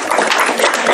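Brief burst of audience clapping for a reader at a children's literature evening, loud and close, with individual claps audible over about a second.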